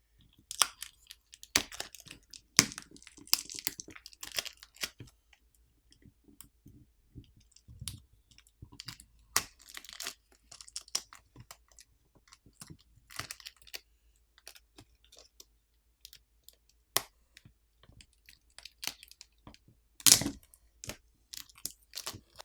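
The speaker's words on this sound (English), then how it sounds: "there are adhesive pull tabs for the adhesive pouch to help you pry the battery off" Adhesive pull tabs are peeled to free the 5180 mAh battery during a Doogee S61 phone teardown, giving quiet, scattered clicks, crackles and tearing snaps close by over near silence.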